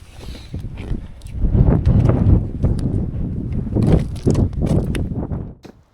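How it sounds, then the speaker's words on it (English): Seaside wind gusts at Runswick Bay, a loud, rough low rumble buffeting the microphone that swells and eases, with faint footsteps crunching underneath. "It's gone a bit cold and the wind has got up."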